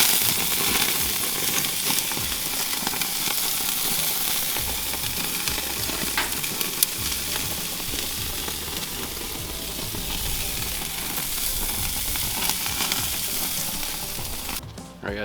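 Steak kabob skewers sizzle on a Mesa 400 grill with a loud, dense, steady hiss and crackle. Small pops sound throughout, and a brief clatter comes at the very end.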